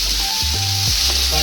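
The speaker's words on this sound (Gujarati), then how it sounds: "શાક વઘાર દઈએ." Cauliflower sizzles loudly as it is tempered in hot oil for a vegetable dish, a dense, close frying hiss, with a faint steady hum running underneath.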